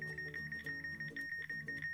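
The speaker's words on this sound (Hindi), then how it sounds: "यहाँ पर आप देख रहे हैं वो बीप दे रहा है, वो साउंड दे रहा है" An Android hidden camera detector app beeping a steady, rapid series of high electronic tones at a regular pulse, fairly quiet against low background hum.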